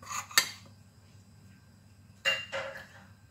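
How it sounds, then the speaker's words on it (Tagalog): Flour, salt and cooking oil being mixed in a bowl: a few brief scraping clinks of a utensil against the bowl, separated by quiet pauses, close and without talk. "At yung ating cooking oil, ilagay natin dyan. Haluin din natin siya."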